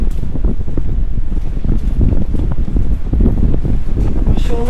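Strong wind roars and buffets the microphone on a mountainside in rain, a dense, continuous rushing noise that stays loud throughout with no pauses.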